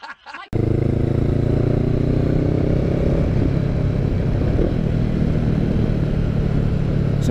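A Honda CB500X motorcycle rides along a public road, its engine giving a steady, loud drone with a continuous low hum and wind noise after a brief quiet start.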